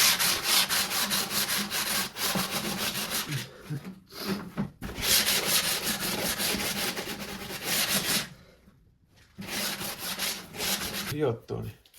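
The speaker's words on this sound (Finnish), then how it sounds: "voitais vähän hioa noita reunoja tästä, että tulee suorempi vielä" Edges of a plexiglass piece are sanded by hand in a garage, loud close rasping strokes in long sustained bursts separated by short pauses.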